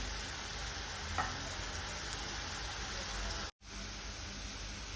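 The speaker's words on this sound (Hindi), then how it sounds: "बस इसे हल्का सा मैं भूनूंगी 2 मिनट के लिए।" Ground onion paste fries gently in a pan, giving a steady close sizzle with faint stirring scrapes, broken by one brief dropout near the end.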